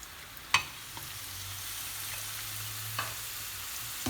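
Onions frying in a pan until golden for Moroccan mesemen, a steady soft sizzle throughout with a few sharp stir clicks and clatters near the start and middle.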